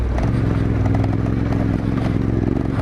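A Yamaha Tenere 700 motorcycle rides over rough terrain at a steady throttle, its engine droning loud and close, with a constant low rumble and chassis rattle throughout.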